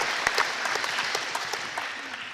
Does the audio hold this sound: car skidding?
no